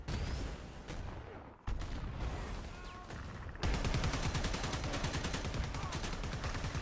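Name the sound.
gunfire in a video game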